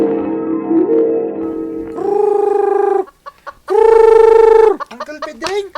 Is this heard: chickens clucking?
yes